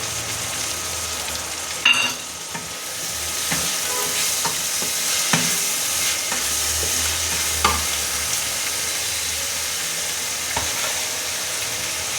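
Tomatoes fry in a sizzling tadka in a pan, a loud, steady crackling hiss close by, broken by repeated scrapes and clinks of a spoon stirring.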